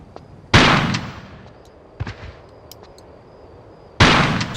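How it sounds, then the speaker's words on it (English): Gunfire from pistols or a shotgun aimed at bats inside a pyramid in Tomb Raider: The Last Revelation, with three sharp, loud shots spaced about one and a half to two seconds apart over low game ambience. "You can do your pistols or your shotgun or whatever you want to use to kill them"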